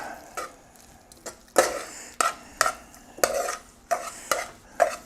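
Samyang Buldak mac and cheese stirred in a worn, once Teflon-coated pan, with about seven sharp scraping strokes in an irregular rhythm, close and clear with no talking.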